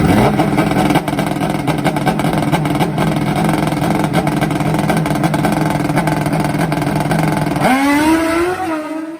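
A 500+ hp nitrous Suzuki Hayabusa drag bike engine roars loud and steady at high revs, then near the end the pitch drops and climbs again in a sharp rising whine before cutting off.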